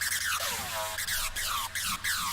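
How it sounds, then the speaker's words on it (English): Hardstyle screech synth in FL Studio with the detune removed, eight voices now collapsed into a single narrow tone: a loud, bright, repeating screech with falling pitch sweeps in a steady rhythmic pattern, heard alone. "If I would take away the detune, it would sound like this"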